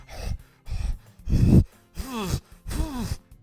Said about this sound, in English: That was her panting